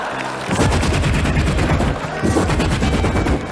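Rapid bursts of heavy-calibre machine gun fire from a film scene ring out loud and continuous, with brief pauses between long volleys.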